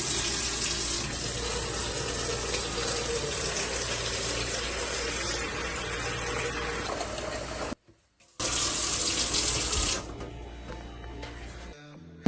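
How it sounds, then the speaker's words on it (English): Tap water pours steadily into a basin, a continuous rushing splash that briefly cuts out, then resumes more quietly before stopping. "now I'm gonna go ahead get the basin water"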